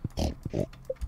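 Pigs in Stardew Valley give a few quick, close grunting oinks in short bursts.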